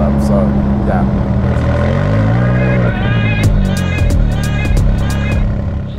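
Ferrari 458 Speciale with a naturally aspirated 4.5 litre engine, a loud, close, sustained engine note whose pitch rises and shifts as it revs, with someone talking over it.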